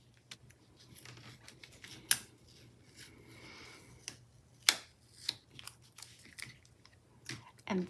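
Scissors snip and trim paper for a photo journal memory-keeping spread, a few sharp close cuts and crisp clicks over soft rustling and a low steady room hum.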